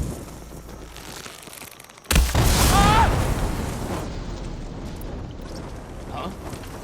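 A blaze drum exploding in Horizon Forbidden West, one sudden loud blast followed by a long roaring fiery rumble that slowly fades, with talk over it.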